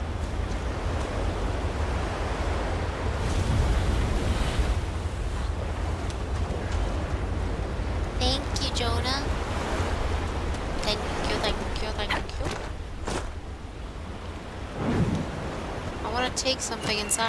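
Ocean waves in Dragon Age: Inquisition surge and wash in a continuous, broad roar with swelling peaks, while a person talks intermittently over them.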